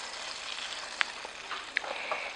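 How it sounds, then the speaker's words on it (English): Vegan bubble and squeak patties of mashed potato and cabbage, about half an inch thick and hamburger-sized, fry in a pan with a soft steady sizzle, broken by a few small sharp pops and crackles. "And then I'm gonna fry them for 3 to 4 minutes or so until they maybe are brown"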